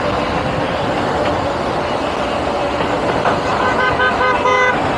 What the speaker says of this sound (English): Honk, honk, honk, honk, honk.